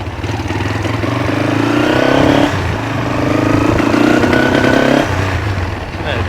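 A 1982 Honda C70 Passport or CL450 motorcycle engine runs close by, a steady loud putter that swells and settles with slight revs and breaks up a little.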